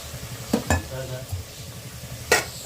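A spoon scrapes and clinks against a cooking pot as potatoes are stirred in with masala and a little water, a few sharp metallic knocks standing out over a low background hum.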